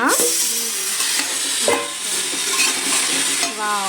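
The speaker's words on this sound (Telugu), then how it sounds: "వెజిటబుల్స్ అన్నీ ఆయిల్లో వేసాను మగ్గుతున్నాయి" Vegetables cooking in oil for sambar, a continuous loud sizzle with occasional stirring scrapes and a faint voice-like tone in the background.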